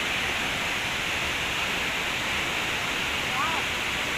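Water from a pool pours downward in a steady, loud broadband rush during the monsoon, a continuous hiss without breaks, with a brief faint voice near the end.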